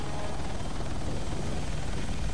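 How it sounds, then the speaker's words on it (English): Helicopter in the video game Joint Task Force, a steady loud broadband rotor and engine roar held at constant level throughout with no talk. "Just repair my chopper."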